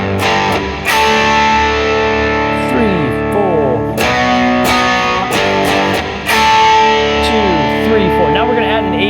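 Loud distorted electric guitar runs through the intro riff of a song, with repeated chord stabs and bent lead notes, chugging rhythm throughout, played solo without vocals.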